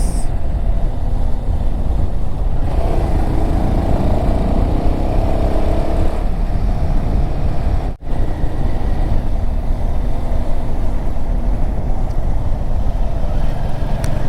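Motorcycle cruising steadily on a mountain highway toward Solan during a long overnight solo ride to Spiti, with loud continuous engine drone and heavy wind rush throughout, one brief dropout midway.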